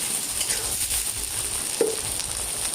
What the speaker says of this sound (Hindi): और प्याज डालकर भून रही हूँ।